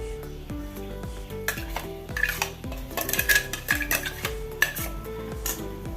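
Spoon clanks and scrapes against a curry pot as ground coconut paste is poured in and stirred into a tomato and okra curry, a steady run of close metallic knocks and scraping with a faint sizzle beneath, no talking.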